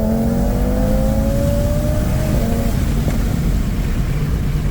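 A 760 awhp Audi RS3 accelerates hard, its engine note climbing steadily in pitch through the gears with a loud, close, continuous roar and no talking.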